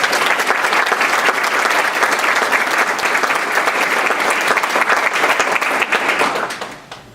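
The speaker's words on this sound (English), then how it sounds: "Can you please give them a round of applause?" An audience claps steadily through a lecture hall at a democracy medal lecture, a dense sustained round of applause for several seconds that fades out at the end.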